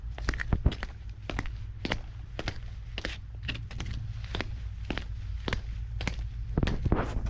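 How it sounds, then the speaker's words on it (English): Hobnail boots strike pavement in a steady walking rhythm, each sharp close scrape and clack repeating at an even pace for several seconds, with faint background hum. "Just a very unique sound you won't get from anything else but hobnails walking on pavement"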